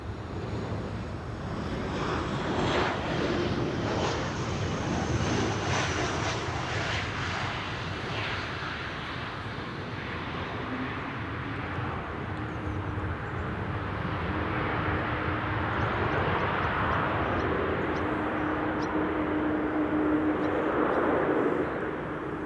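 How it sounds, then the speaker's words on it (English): A KLM Boeing 737-700 arriving at Amsterdam Schiphol from Munich, heard as a steady, broad jet roar with wind buffeting, holding strong for over twenty seconds as the airliner passes nearby. "Next up is KLM with a 737-700 arriving from Munich"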